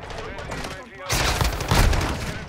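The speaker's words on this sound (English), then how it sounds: "Now they're using shotguns." Shotgun blasts and rapid gunfire in the video game Modern Warfare 2, dense overlapping bursts that grow louder in the second half, mixed with game voice callouts.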